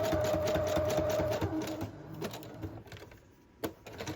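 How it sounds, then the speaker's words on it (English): A sewing machine with a basic needle and thread stitches paper scraps in a fast steady rattle with a whirring motor, slowing and stopping partway through before a brief click. "Just using my sewing machine with a basic needle, basic thread."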